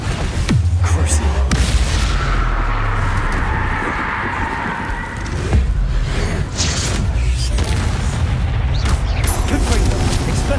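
Confringo blasting spells erupt in Hogwarts Legacy combat, making a loud, sustained rumbling boom with heavy low-end that swells, dips briefly around the middle and surges again, all fairly close and unbroken.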